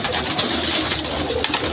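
Pigeons cooing steadily at a Pakistani pigeon-keeping loft, a soft continuous murmur of several birds close by over a dense, noisy background with no talk.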